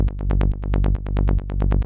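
Psytrance synth bassline built in Serum within Ableton Live, a fast, even train of punchy, buzzy bass notes pulsing loudly with no voices.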